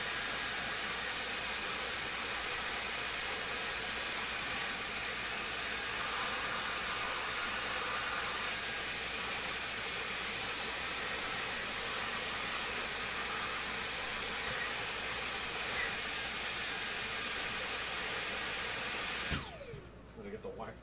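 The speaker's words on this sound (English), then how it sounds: "Also, you can vacuum the ports." A vacuum cleaner hose sucking dust from the ports of an Xbox 360 console, a steady loud broadband whoosh running continuously for most of the clip, then cutting off abruptly near the end.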